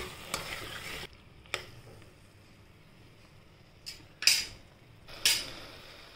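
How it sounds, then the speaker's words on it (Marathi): Cut jackfruit pieces stir-fried in oil in a pan give a low steady sizzle, broken by a few sharp scrapes and clinks of the spoon against the pan. "फणस कापून घेतले, हे तेलात परतून घ्यायचे जरा 2 मिनिटं"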